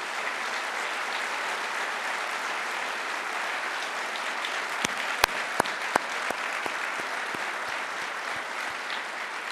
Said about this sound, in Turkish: Ve şöyle Tuncay Bey bir kalk da bir birlikte alkışlasınlar size.